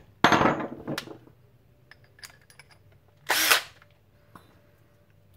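Two short bursts of a power drill whirring into a brass breech part for a Nerf Retaliator, separated by a quiet pause with light clatter between them.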